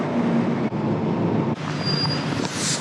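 An old London Underground train rumbles and rattles along the track with a steady roar, brief jolts, and a thin metallic squeal rising near the end.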